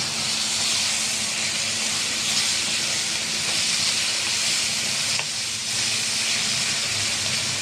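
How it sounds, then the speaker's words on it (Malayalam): Tomatoes, three green chilies and curry leaves sautéing in a pan for a soya chunk curry, giving a steady, close, dense hiss and sizzle that runs unbroken throughout with no talking. "പച്ചമുളക് 3 എണ്ണം, നമുക്ക് കരിവേപ്പിലയും കൂടെ ഇട്ട് കുറച്ചും കൂടെ ഒന്ന് വഴറ്റിയെടുക്കാം"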